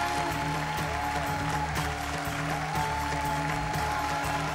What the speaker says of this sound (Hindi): सो जोरदार ताली से स्वागत करे के शुभा